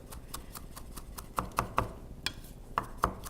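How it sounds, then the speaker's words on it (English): A knife chops garlic and chili pepper on a cutting board for chimichurri, a steady run of crisp, close taps in an even rhythm with a few louder strikes. "you have to really be patient and chop for a little while in order to make sure that you don't have any great big chunks of garlic"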